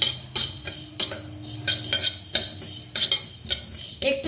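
Mustard seeds frying in a hot pan, with irregular sharp pops and clicks over a steady low sizzle and occasional stirring scrapes, close and fairly loud, no voices.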